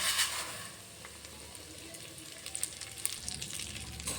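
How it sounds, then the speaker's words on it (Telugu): Vermicelli frying in hot ghee gives a light, steady crackling sizzle, with small irregular pops and scraping stirs that sharpen toward the end. "ఇప్పుడు అదే నెయ్యిలో మనం సేమియాని ఫ్రై చేసుకుందాం"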